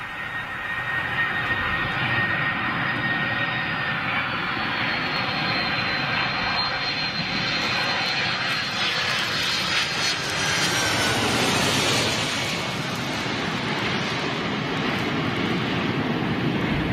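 A 24-year-old airliner flies past, heard from a home, a loud, sustained jet engine roar that builds to a broad whoosh near its closest point and then fades slightly.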